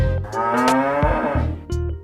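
A cow on a crowded Mumbai street moos loudly and close by, in a long drawn-out low call followed by a shorter second call, over a background of street bustle.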